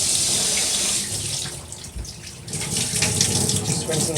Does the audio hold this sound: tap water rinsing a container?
yes